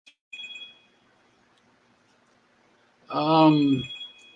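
Phone ringing with an incoming call, a short electronic tone at the start followed after a pause by a louder warbling ring burst.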